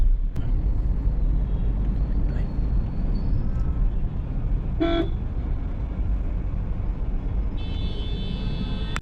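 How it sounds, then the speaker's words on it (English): Road traffic heading toward the Taj Mahal, heard from a tuk-tuk: steady engine and road rumble with several car horn toots, one loud honk standing out midway and more horns near the end. "De camino para Taj Mahal en el tuk-tuk."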